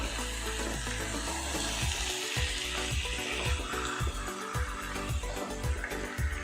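Goat head curry with turmeric and chili powder fries over high heat, a dense constant hiss with regular scraping stirs under a steady low droning background.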